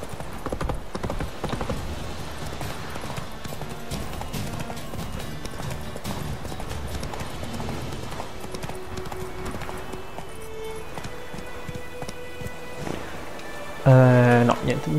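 Horse hooves clip-clop at a steady gait in The Witcher 3 video game, mid-loud and continuous under game ambience, with a louder burst of sound near the end.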